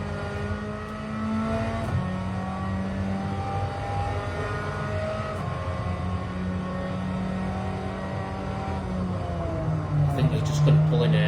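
A race car engine in the Gran Turismo 7 video game drones steadily at high revs, with a few shifts in pitch and a brief rise toward the end, loud and continuous throughout.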